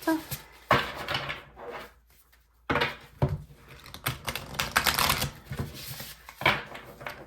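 Tarot cards being shuffled by hand, a quick run of crisp riffling and slapping bursts with short pauses between them, close up.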